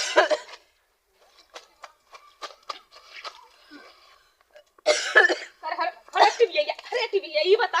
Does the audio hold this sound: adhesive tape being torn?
no